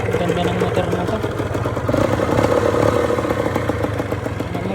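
A restored yellow 1970s Yamaha DT motorcycle runs nearby with a steady, clattery engine idle, while someone talks over it.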